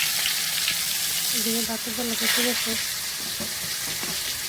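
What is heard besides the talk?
spiced fish frying in a pan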